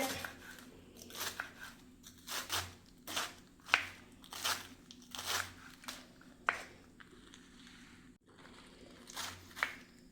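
Leafy spinach being chopped with crisp, crunchy cuts in irregular bursts, close by and fairly quiet, with a faint hum in the background.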